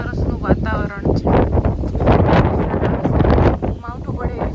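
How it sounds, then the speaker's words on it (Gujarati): Strong gusts of wind on a rooftop terrace ahead of unseasonal rain buffet the microphone in loud, uneven surges, with a person talking through much of it. "માવઠું છે, પવન એ જોર જોરથી ચાલી રહ્યો છે."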